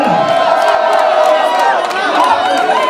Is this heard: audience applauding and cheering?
yes